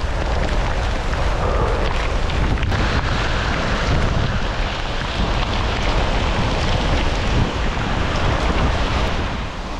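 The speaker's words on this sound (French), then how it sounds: "c'est même pas de la pluie, c'est de la grêle" Dense, constant roaring patter of hail with wind buffeting, loud and unbroken throughout.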